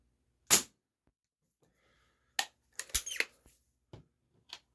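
A Beeman P17 Deluxe pellet pistol is fired indoors with a single sharp snap, followed by a cluster of quieter clicks and handling noises and a few faint ticks.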